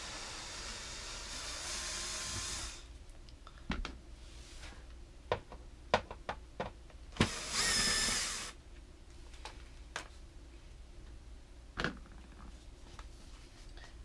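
A power drill backs screws out of a homemade camping solar generator case in two loud bursts, one long at the start and another mid-way, with scattered clicks and taps of handling in between.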